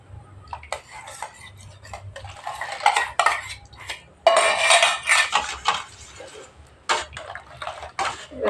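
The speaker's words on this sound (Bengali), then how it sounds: "ভালো করে ধুয়ে বাটিটা দিয়ে দেব।" A bowl is washed at home while sweet curd is being made: close clinks and clatters of dishware and utensils come in irregular bursts with a little water noise, and no one speaks.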